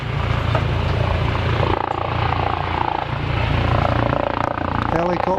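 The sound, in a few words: helicopter flying in to an accident scene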